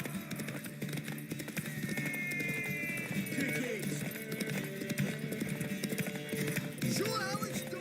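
Horse hooves clip-clop in a galloping rhythm during a horse race in The Witcher 3, steady and fairly close beneath game music, with characters talking over it.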